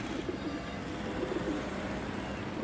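Homing pigeons at their loft give soft, low cooing calls in two short bursts, fairly close but subdued under a constant low hum.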